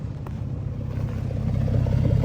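A Ford F150 V8 fitted with new catalytic converters rumbles close by, its deep exhaust note building gradually in loudness as the engine revs up, with no voices present.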